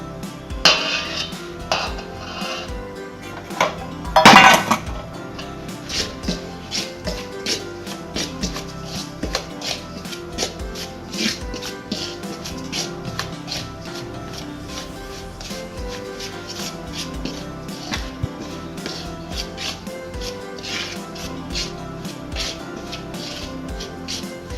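Sugar is stirred into a coconut bun mixture in a bowl, a continuous run of scraping, knocking and clinking strokes from the utensil against the bowl, with one louder clatter early on.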